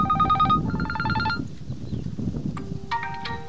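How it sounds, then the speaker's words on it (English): Ringtone on an Oppo Reno 11 Pro 5G phone: bright, repeating synthetic melodic tones in short bursts, with a pause and then a new phrase, playing clearly over faint background noise. "And this ringtone is now applied."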